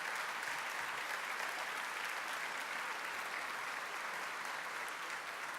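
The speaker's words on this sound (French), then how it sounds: "Et vous pouvez les applaudir." Steady, dense applause from a large crowd at a political speech, sustained at an even level throughout without a break.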